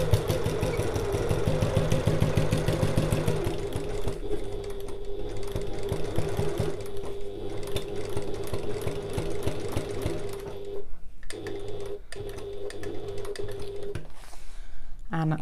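A sewing machine stitches and back-stitches fabric for a large sewn bag, a close, rapid mechanical whirring that runs almost the whole time with brief pauses near the end, while a person talks over it.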